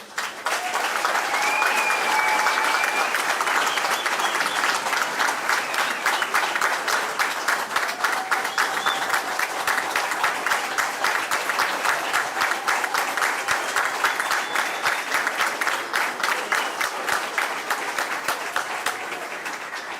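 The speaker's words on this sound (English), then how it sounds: "Let's give them another round of applause." A crowd at a fire academy graduation applauds the graduating class, sustained dense clapping that holds steady for about twenty seconds and eases slightly toward the end, with faint voices and whistles mixed in.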